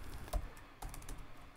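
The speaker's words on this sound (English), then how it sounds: "Let me just type this real quick here." Quick keystrokes on a computer keyboard during a MonoGame coding session, a few distinct clacks in an irregular burst, close and moderately quiet with no speech.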